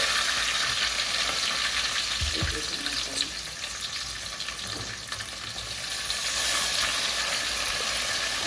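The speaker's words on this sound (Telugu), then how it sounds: "దాంట్లో ఎర్రగడ్డలు టమోటాలు కొత్తిమీర కరివేపాకు అయితే వేసుకోవాలి" Onions, tomatoes, coriander and curry leaves frying in hot oil for a prawn biryani, a loud, dense, continuous sizzle heard up close and steady throughout, with a brief low knock partway through.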